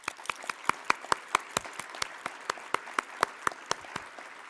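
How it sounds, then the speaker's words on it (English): Applause at a summit's closing ceremony comes as a thin, evenly spaced run of sharp individual claps, faint and fairly distant, with few hands joining in. "I would like us to all applaud her"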